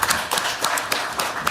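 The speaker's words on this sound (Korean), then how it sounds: "박수 한번 보내주세요" Scattered audience clapping at a talk concert on ESG, sparse and uneven hand claps in loose rhythm, moderately loud and close, thinning out rather than a full ovation.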